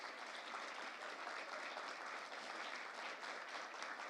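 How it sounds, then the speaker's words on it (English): A conference audience at a panel discussion applauds the organisers, an even, continuous wash of clapping heard faintly and at a distance for about four seconds. "we really need to do now is to have a round of applause for Claire and for Elaine"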